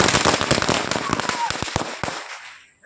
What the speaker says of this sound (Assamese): হাইলাকান্দিৰ বিভিন্ন প্ৰান্তত ফটকা ফুটাই আনন্দ প্ৰকাশ